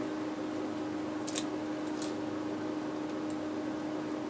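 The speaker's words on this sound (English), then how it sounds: "These are good scissors, and they even have a little difficulty getting through there" Scissors snip through tough fishing line while rigging a magnetic polar pop-up, two brief crisp cuts close by over a steady low hum, with no talk.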